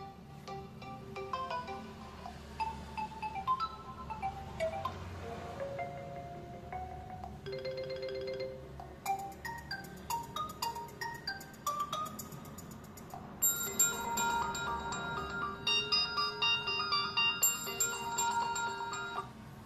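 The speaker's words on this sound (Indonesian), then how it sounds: "Ini suara ringtone-nya lumayan nyaring ya" Ringtone melody from the single speaker of a Realme C51 phone, bright tonal chimes in shifting phrases playing steadily at moderate loudness for about twenty seconds with no talk.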